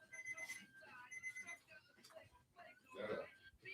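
An alarm clock rings in repeated steady beeping tones over a busy room, with people talking loudly across it the whole time.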